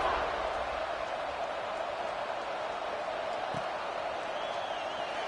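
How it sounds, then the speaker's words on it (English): A college football stadium crowd at Ole Miss versus Cal buzzes steadily after a long touchdown run, a broad, even roar of many distant voices holding at a constant level throughout. "this crowd is buzzing after that last score"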